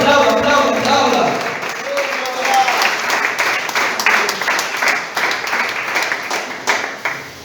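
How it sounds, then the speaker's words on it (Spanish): A church congregation applauds in a dense, steady burst of many hands clapping, loud and close, with a voice over it at the start and cheers mixed through as the clapping carries on. "Aplauda al que vive en esta noche."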